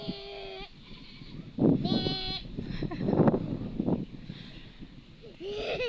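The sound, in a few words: goat bleating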